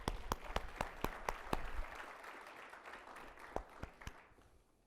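An audience at an engineering awards brunch applauds, with distinct claps rising into a burst of clapping that thins out and fades over a few seconds.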